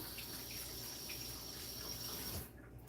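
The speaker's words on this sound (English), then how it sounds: "I don't know if you can hear the sound of the scrubbing" Dishes scrubbed at a kitchen sink under running tap water, a steady rushing splash that cuts off near the end.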